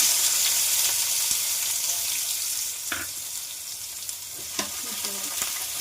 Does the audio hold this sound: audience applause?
no